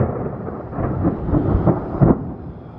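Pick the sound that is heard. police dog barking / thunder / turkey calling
thunder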